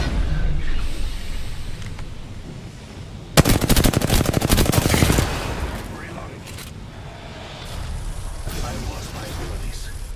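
Rapid automatic gunfire from the Apex Legends video game bursts loudly for about two seconds, with a game announcer voice talking before and after.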